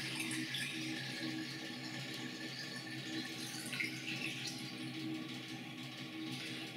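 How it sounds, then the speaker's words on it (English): Film developer, 16 ounces measured out, poured steadily into a developing canister, giving a continuous trickling, splashing water-like flow close by with no talk. "I'm ready to pour in the developer"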